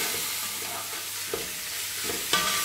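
Boneless chicken cubes sauté in ghee with a steady hot sizzle and a few sharp spatula scrapes and taps, close and moderately loud.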